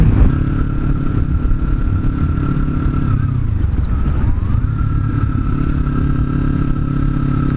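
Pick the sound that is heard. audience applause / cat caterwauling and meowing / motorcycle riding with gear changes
motorcycle riding with gear changes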